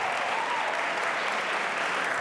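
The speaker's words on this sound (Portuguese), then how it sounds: "Uma grande salva de palmas." Steady, dense applause from an audience at a music event at the Belém presidential palace, a uniform wash of clapping hands heard alone, moderately loud and unbroken throughout.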